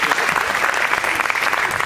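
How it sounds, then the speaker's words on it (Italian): Dense, steady audience applause at an Italian public event in Naples, a continuous wash of clapping heard up close with no break. "Un applauso a Giulio Cavalli."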